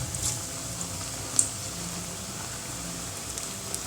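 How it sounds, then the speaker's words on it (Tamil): Brinjal pakoda batter fries in hot oil with a continuous fine crackling sizzle, steady and close, with one sharper pop near the middle and no talking. "இப்போ எண்ணெயில் பொரிச்சு எடுக்கலாம்."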